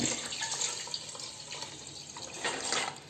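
Water splashes and gurgles steadily as 6.5 cups are poured into a pot for vegetable biryani, continuous and close, with no voices.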